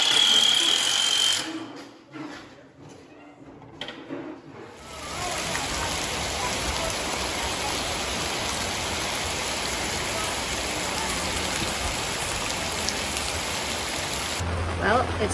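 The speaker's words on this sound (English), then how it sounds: "It's rainy season again in Guatemala, here on the Rio Dulce" Heavy rainy-season rain on the Rio Dulce in Guatemala, a steady dense hiss that begins after a few seconds of quieter, patchier sound and keeps up unbroken.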